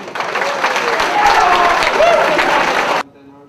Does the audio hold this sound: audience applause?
yes